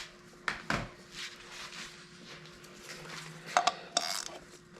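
A wrench tightens the oil drain plug under a 2017 Lexus RX350, giving a few sharp metallic clinks and taps close by, spaced apart over a low steady background with no talking.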